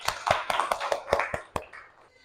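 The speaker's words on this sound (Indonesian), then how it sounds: "Tepuk tangan sekali lagi" A classroom of students applauds their classmate, a burst of fairly close, sharp claps with a few distinct loud hits among the patter, trailing off after about two seconds.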